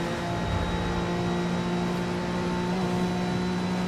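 A twin-turbo car engine revving in Forza Horizon 5, a steady, loud, sustained drone with even harmonic tones that hold near one pitch before shifting slightly, with no talk over it.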